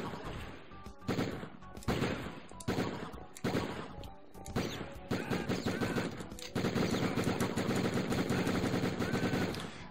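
Machine gun fire in the Die Hard Trilogy video game, opening in loud, evenly spaced bursts separated by short pauses, then merging into a continuous heavy stream of rapid shots.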